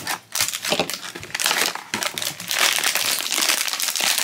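Crinkly plastic wrapping of a Stranger Things Demopets Mighty Jaxx blind box being torn and crumpled open, loud and close, continuous rustling without speech.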